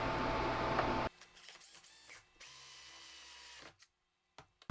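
A power drill cuts a 1 3/4 inch hole through a box, a loud grinding burst at the start giving way to quieter spinning and intermittent whirring as the bit finishes, then near silence.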